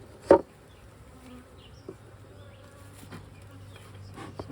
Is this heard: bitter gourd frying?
no